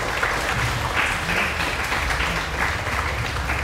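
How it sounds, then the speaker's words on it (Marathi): Hearty applause from an audience at a judo camp ceremony in Shivaji Park, Dadar: dense, continuous clapping that holds at an even level throughout. "जोरदार टाळ्या वाजवून धन्यवाद व्यक्त करतो"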